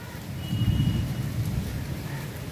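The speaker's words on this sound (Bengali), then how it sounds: "ভালো মতন জোরে বৃষ্টি নেমে গেল। দেখুন কি অবস্থা, এক পশলা বিশাল জোরে বৃষ্টি নয়, মেঘ ডাকছে" Heavy monsoon rain pours down around a rooftop while thunder rumbles, making a steady, dense low roar with a swelling rumble over under three seconds.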